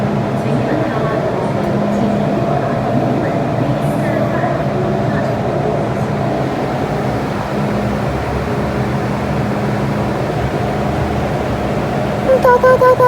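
An MTR train sits at the Tin Hau Station platform, giving off a steady low mechanical hum with a constant drone. A voice talks over it, and a short run of beeping tones sounds at the very end.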